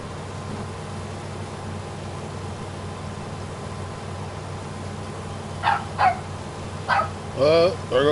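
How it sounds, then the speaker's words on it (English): A dog barks a few times at a distance. The barks come in a cluster near the end, after a long stretch of steady background hum. "There goes JoJo the Wonder Dog"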